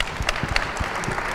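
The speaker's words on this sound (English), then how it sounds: "please give them a round of applause" Audience applause at the close of an urban design conference talk: brief, fairly faint clapping with scattered distinct claps over a steady room wash.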